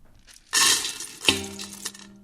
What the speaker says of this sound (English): Okay, so I'm going to add my corn to the pot now.